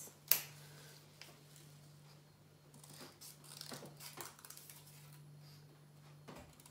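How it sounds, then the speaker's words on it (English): Scissors cutting paper along drawn lines to make a boat sail, soft intermittent snips and paper rustles close by, quiet over a steady low electrical hum, with a sharp click at the start. "I'm going to get my scissors. Thumb in the top, two fingers at the bottom, so you can move them. And I'm going to cut along the lines."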